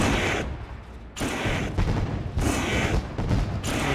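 Fireworks at Eldora Speedway, a dirt racing track, go off as a rapid series of loud booms and crackling bursts that layer into a continuous rolling barrage.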